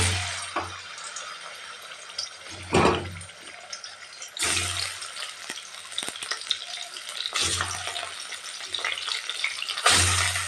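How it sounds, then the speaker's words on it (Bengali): Pieces of snakehead (shol) fish frying one by one in hot oil, with bursts of loud crackling sizzle that rise and settle several times, close and alone. "এবার আমি কি করছি মাছগুলোকে এক এক করে ভেজে তুলব"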